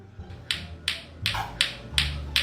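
Six sharp, evenly spaced clacks of a lato-lato clacker toy, about two per second, crisp and close, with a low hum underneath.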